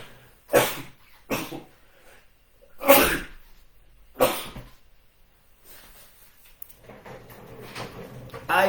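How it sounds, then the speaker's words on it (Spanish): Four sharp sneezes burst out at irregular intervals, close and fairly loud, with near silence between them and faint room noise trailing off at the end. "el estornudo llega cuando menos se le espera"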